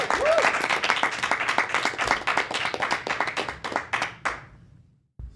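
A crowd applauds a contestant, Leo, at a rap battle on the MCC Thunderdome stage; loud, dense clapping with a brief whoop near the start, thinning and fading after four seconds before a final clap.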